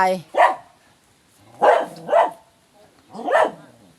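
Three bursts of a dog barking sound close and loud, with a single bark, then a quick double bark, then one more, separated by near silence.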